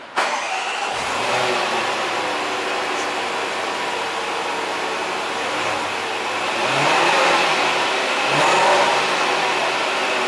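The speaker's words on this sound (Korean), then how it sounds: "시동 걸 때 소리가 아주 끝내줘요." A supercharged 5.0-litre V8 in a Range Rover Autobiography cranks into life, then settles into a steady, loud idle with broad engine roar and a couple of swelling revs toward the end.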